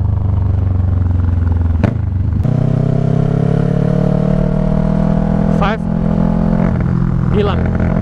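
A Kawasaki Ninja 650R engine runs at a steady loud drone that stumbles and cuts out as it loses power, with a couple of sharp clanks, while someone talks over it throughout.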